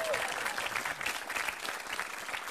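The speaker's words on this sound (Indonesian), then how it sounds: "Oke, tepuk tangan untuk Smart." A television studio audience at an Indonesian stand-up comedy show claps continuously in dense, even applause throughout.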